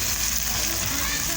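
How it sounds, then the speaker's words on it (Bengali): Many small fish fry in oil, a loud, dense, unbroken sizzling hiss heard close up, with no talk. "এখানে দেখো অনেকগুলো গুঁড়ো মাছ ভাজা করছি।"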